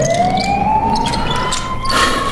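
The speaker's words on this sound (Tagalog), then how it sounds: "Andyan na yung ambulansya." An ambulance siren rises in a steady wail as it draws nearer, moderately loud against a noisy background, with no one speaking.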